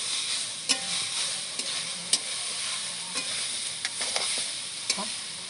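Grated coconut filling sizzles softly in a wok for dudh puli pitha, with a steady frying hiss broken by sharp clicks and scrapes of a stirring spoon.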